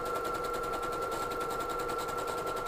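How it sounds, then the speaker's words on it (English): A sewing machine fitted with an overcast foot stitches ribbed knit fabric, a steady rapid mechanical chatter that runs close and unbroken, with no voices. "so just start sewing"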